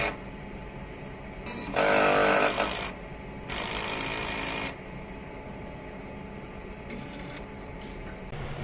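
Mechanical whirring and rattling of an eco solvent printer head running a cleaning cycle, in several loud bursts separated by quieter machine hum, close by.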